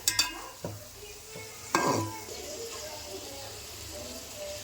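Onion, cabbage, capsicum and chili sauté in a pan for Chinese pasta, a soft steady sizzle with a few sharp stirring clatters near the start and middle.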